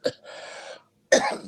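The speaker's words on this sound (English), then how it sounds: "I got a cough" Two close, sharp coughs from a person who mentions pollen trouble and occasional breathing problems, the first a short burst and the second longer and raspier after a brief pause.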